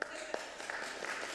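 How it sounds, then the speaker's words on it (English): Brief audience applause for Brother André at a presentation of his reliquary, a short burst of steady clapping from a gathered crowd. "Can we clap for Brother André?"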